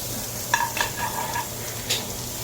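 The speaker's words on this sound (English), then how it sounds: "Let me go ahead and get a little bit more butter in here so we can do our next pancake." Butter sizzling in a hot pan for banana pancakes: a soft steady fry hiss with a few close scraping and tapping sounds of a utensil against the pan, no talking.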